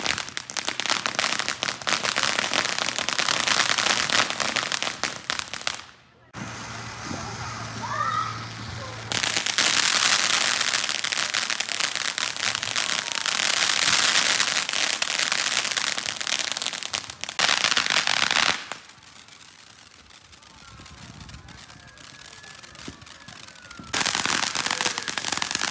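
Fireworks and firecrackers bang and crackle through a neighborhood Fourth of July celebration, loud and dense in long bursts with brief lulls, and voices are heard faintly among the blasts.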